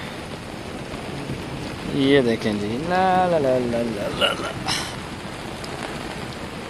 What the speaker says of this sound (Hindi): ये देखें बहुत तेज़ बारिश हो रही है